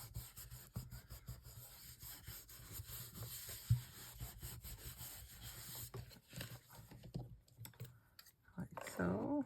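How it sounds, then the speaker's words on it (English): Paper pages of a handmade journal being trimmed with a blade or cutter, giving steady close scraping and rubbing strokes across the whole stretch, with a sharper knock near the middle and louder handling at the end. "I have to trim that off a bit."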